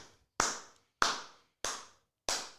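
Four sharp hand claps, evenly spaced about two-thirds of a second apart, close and dry with silence between each one.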